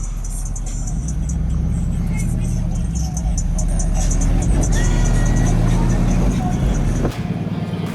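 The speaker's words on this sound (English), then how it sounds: "There are the laid-back squat trucks from Myrtle Beach, South Carolina." Laid-back squat trucks cruise a Myrtle Beach, South Carolina street, a steady loud engine rumble and road roar with passing vehicles, while a voice talks over the traffic.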